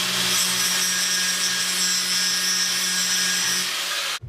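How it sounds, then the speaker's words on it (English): A power tool cuts steel through the old flange on a car exhaust downpipe during a turbo install on a MK3 Supra, a steady high grinding whine held loud and close for about four seconds before it abruptly stops. "let's just cut the old flange off the downpipe, ready for the V-band"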